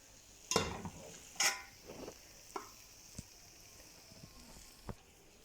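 Cooked green coriander rice is dished out of a pot, with a handful of faint, spaced scrapes and light knocks of a spoon against the metal in a quiet room.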